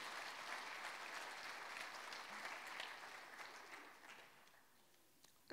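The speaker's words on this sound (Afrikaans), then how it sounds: "Kom ons gee die Here 'n hande klap vir hom." Applause in a church for a worship singer, steady clapping from the congregation that fades toward the end.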